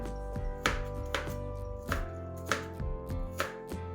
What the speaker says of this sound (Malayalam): ഒരു മീഡിയം സൈസ് ഉള്ളിൽ ഒരു പകുതി ഉള്ളി ചെറുതായിട്ട് കട്ടാക്കി എടുക്കുക